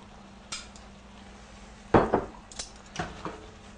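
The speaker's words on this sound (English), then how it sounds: "Then you want to add your beef." Clattering of metal utensils against a pan as beef is added and cooked, with a few sharp knocks and scrapes over a faint steady hum, no talking.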